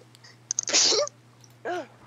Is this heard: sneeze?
yes